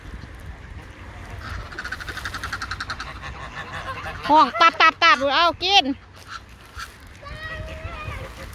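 Ducks being fed bread by two siblings, quacking in a quick run of loud, close calls mid-clip, with a softer honking series earlier and a few more calls at the end, over outdoor background and children talking.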